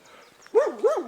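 A dog on a hiking trail in Brittany, near Quistinic, lets out two loud, close barks with a whining, wavering edge after a brief quiet lead-in.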